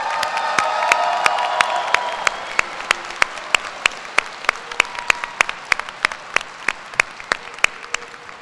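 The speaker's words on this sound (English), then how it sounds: "Let's give our class of 2024 a big round of applause." A graduation audience at a College of Education fall commencement breaks into loud applause with cheers for the graduating class, the dense clapping thinning out after a few seconds into scattered, sharp individual claps.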